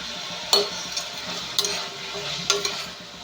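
Onions for chicken curry stirred in a hot pan, soft sizzling frying with a few sharp scraping strokes of the spoon at steady intervals, close and fairly quiet.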